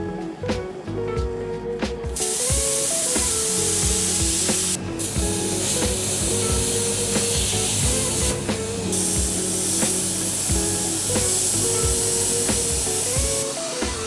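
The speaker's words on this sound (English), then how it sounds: "I'm just cutting out all the parts now" A machine cutting out rocket stove parts runs steadily with a loud continuous hiss and layered motor whine, broken by abrupt shifts in pitch and a few brief gaps in the hiss.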